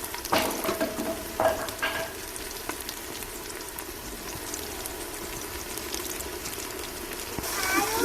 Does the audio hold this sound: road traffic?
no